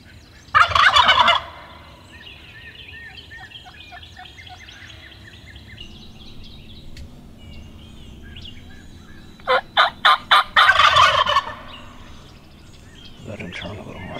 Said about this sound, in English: I'm gonna make him gobble again. You shoot him when he gobbles.